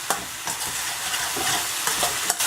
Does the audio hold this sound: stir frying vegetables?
yes